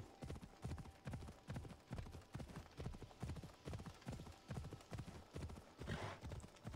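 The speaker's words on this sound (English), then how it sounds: "Okay, horsey, what are you doing? Horsey does not like this." A horse's hooves clip-clop at a steady trotting rhythm in the Greek video game Assassin's Creed Odyssey, repeated even beats with a brief snort or whinny near the end, fairly quiet.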